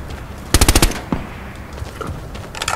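A burst-fire gun in Call of Duty Black Ops 4 lets off a quick string of about five sharp, loud shots in one burst. A few scattered distant shots follow, and there is no talking.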